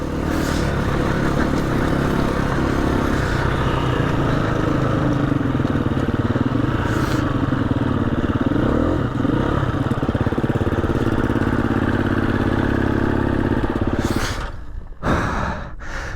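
A dirt bike engine drones steadily and loudly throughout off-road riding, holding a fairly even pitch before cutting out abruptly near the end, followed by a couple of brief bumps.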